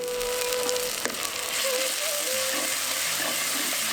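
Ginger garlic paste fries in sesame oil with small onions, giving a steady close sizzle and hiss with faint clinks from the pan, continuous and even throughout.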